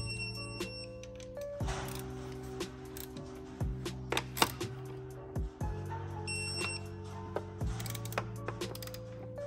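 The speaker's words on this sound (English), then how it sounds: "You're gonna use 9 pounds of pressure. 9 pounds of torque, just to make sure that everything's nice and tight." Ratcheting clicks from a torque wrench tightening Spoon Sports valve cover bolts on a Honda Civic Type R FK8, in repeated short runs with a few electronic tones in a workshop.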